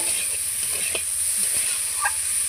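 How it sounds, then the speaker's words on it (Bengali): Cauliflower frying on a stove, heard as a steady bright sizzling hiss that holds throughout, with faint scattered pops and light clicks beneath it and no voices. "উনানে ফুলকপি ভাজা চাপিয়েছি"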